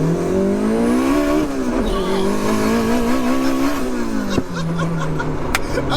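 Turbocharged Toyota MR2 launching hard from a standstill, engine revving loudly and rising through the gears with tire squeal, close and dominant throughout with brief voices in the background.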